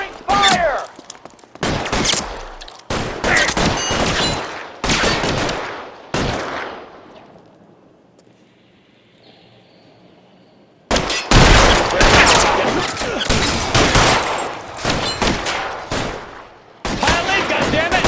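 Heavy gunfire in an L.A. Noire shootout: dense bursts of rapid shots and volleys, loud and close, dropping briefly to a quieter lull before resuming, with shouting voices mixed in.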